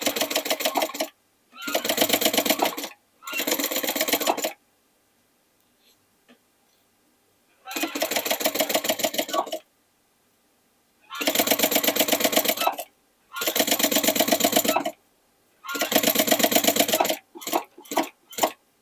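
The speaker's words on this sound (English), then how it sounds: "let's add it here like this and let's stitch it." A sewing machine stitches a make-up bag made from old jeans, running in steady bursts of fast, loud rattling stitching separated by pauses, with a few short stutters at the end.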